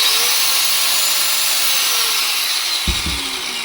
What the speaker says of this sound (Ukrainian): Працює як звичайна болгарка.